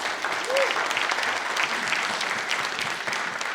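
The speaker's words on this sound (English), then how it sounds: "please give her a round of applause" Steady, dense applause from an audience welcoming CEO Jackie Needus at the Center for Black Literature and Culture's second birthday celebration, sustained at an even level throughout with no talk over it.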